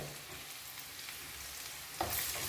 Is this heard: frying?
yes